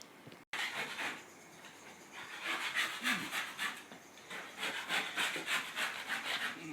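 Old linoleum adhesive is scraped off a floor during carpet removal, producing repeated rough scraping strokes in an uneven rhythm, close and moderately loud with no talk.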